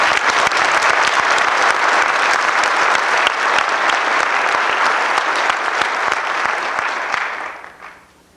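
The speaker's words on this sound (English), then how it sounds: "Please give them a round of applause." Audience applause at a police academy graduation ceremony, a dense, steady roar of many hands clapping for about seven seconds before fading out at the end.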